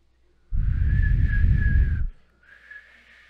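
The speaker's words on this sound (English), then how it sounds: "Can you guys whistle for me?" A sustained, fairly loud whistled tone from an audience, held for about a second and a half with a rumble of crowd noise underneath, then a fainter second whistle after a short gap.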